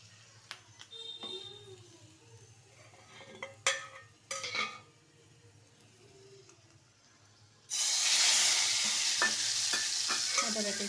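Garlic, dried red chilies and curry leaves hit hot oil for the tempering of a ridge gourd dal. Quiet clinks and stirring come first, then a sudden loud, steady sizzle.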